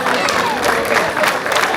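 Audience applause and cheering for a folk dance group at an outdoor folk festival, a dense crowd of clapping hands filling the whole moment with steady broadband noise and a few voices mixed in.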